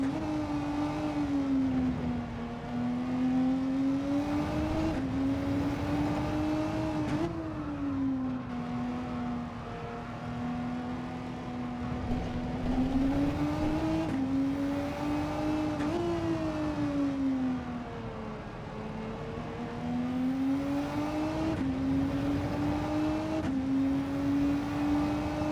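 A mid-engine race car in the Gran Turismo 7 video game during a GR3 league race: a loud, close engine drone that rises and falls steadily through repeated shifts and revs, with no talk over it.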